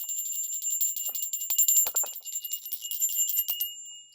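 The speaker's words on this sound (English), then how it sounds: "open our circle with my moon bell" A small bell rings and shimmers at the start of a new moon crystal chakra healing circle, a clear high tone repeatedly struck with a rattling, jingling shimmer, fairly quiet, with no talk.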